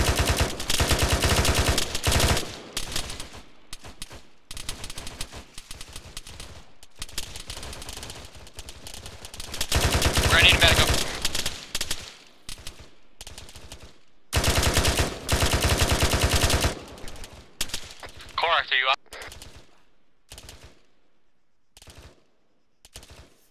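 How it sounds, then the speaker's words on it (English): Bursts of automatic gunfire in Arma 3 come in several long, rattling volleys with short pauses between them, loud and close, with no talking over them. "Suppressive fire!"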